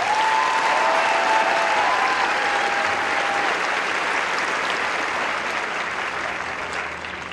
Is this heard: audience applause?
yes